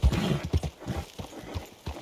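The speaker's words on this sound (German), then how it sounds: "Und da ist noch ein schönes Pferd." Rhythmic hoofbeats of a horse in the video game Red Dead Redemption 2 clop along at a steady trot, fairly close, with a soft rumble of ambient noise underneath and no talking.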